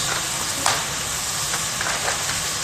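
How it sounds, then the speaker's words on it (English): Steady crackling sizzle of chicken fat rendering in a pot, with a few sharper pops and spits rising over the continuous hiss, no voices. "I don't know if you can hear that pot sizzling, but the fat is rendering out perfect"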